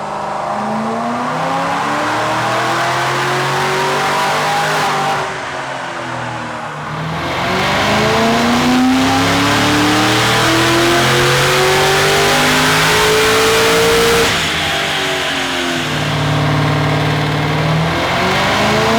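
An HSV Maloo R8 V8 ute engine revs hard and close, repeated rising pulls through the rev range with brief drops between them, loud and unbroken by talk.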